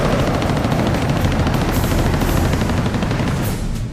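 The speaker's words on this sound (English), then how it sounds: "has spotted 2 MiG-17s firing on Israeli troops" MiG-17 fighter jets fire their guns at ground troops, a loud, sustained roar of rapid automatic gunfire blended with engine noise, dense and unbroken throughout.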